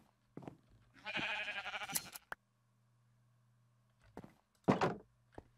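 Minecraft sheep bleat in short, wavering cries, a longer one first and another a few seconds later, with soft thumps between them.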